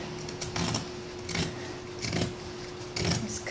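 Scissors cutting through two layers of thick denim jeans, four rhythmic crunching snips spaced about a second apart, close and distinct.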